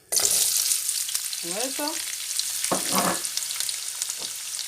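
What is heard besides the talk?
onions frying in hot oil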